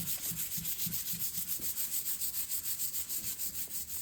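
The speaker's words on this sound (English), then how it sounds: "And I give the top a light sanding so that it stays super smooth." Rhythmic back-and-forth sanding rasps against a wooden coffee table top, a light sanding, steady and close, a couple of strokes per second with no talking.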